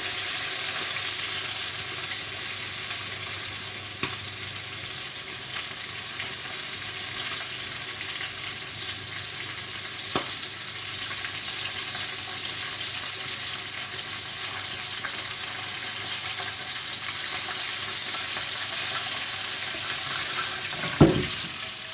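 Chicken pan-fries in oil in a tilted, partly covered pot on a gas stove, a continuous even sizzle with a few sharp clicks and knocks and no talking.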